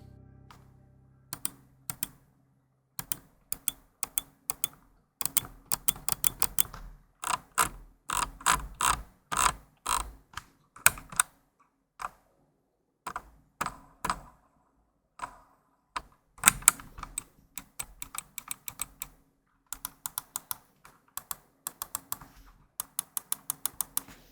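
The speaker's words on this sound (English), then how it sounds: "a quick sound sample of the main buttons" Main buttons of a Logitech G502 X gaming mouse clicking in quick bursts and single presses, each click sharp, tactile and fairly loud, close up with no talking.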